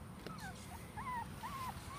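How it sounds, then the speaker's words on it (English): Young puppies away from their mother cry with a few thin, rising whines and whimpers, some drawn out, over steady low background noise. "they're too young to be away from the mother yet. That's why they're crying."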